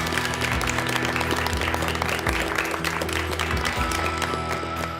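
Spectators at a youth skills competition for emergency medical technicians applaud the other teams, a continuous round of clapping with a few low thumps and faint background murmur, steady and moderately loud.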